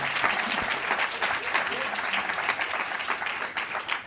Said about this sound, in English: Give a big round of applause to Pipe Drive.